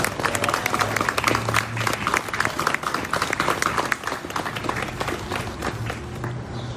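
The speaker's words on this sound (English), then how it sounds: "Apostle Thomas, would you give him a round of applause?" A crowd applauds as a speaker is called to the podium, a fairly dense, uneven patter of clapping with individual claps popping out, holding throughout at moderate loudness.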